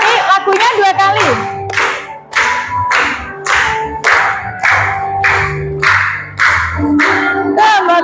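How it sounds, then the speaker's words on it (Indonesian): A group claps in steady rhythm along to a sung religious children's song about the Hajj pilgrimage in a classroom, with loud singing voices over the regular claps throughout. "Boleh sambil tepuk tangan ya."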